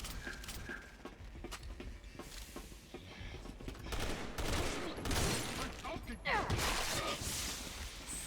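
Rifle gunfire in the video game Resident Evil 6, with rapid overlapping shots and impacts packed into a dense, busy stretch of game combat. The barrage gets heavier toward the middle and end, and a voice talks under it.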